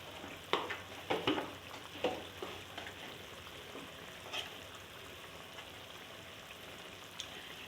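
Tomatoes frying with spices in a pan give off a steady, faint sizzle. A few soft stirring clicks and knocks stand out near the start, and no one speaks.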